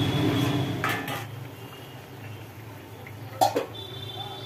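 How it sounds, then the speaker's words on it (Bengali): A metal lid clanks onto a kadai of simmering turmeric-tinged fish curry, with a couple of sharp clatters early on and another near the end over a low, steady background hum. "কড়াই ঢেকে রাখা"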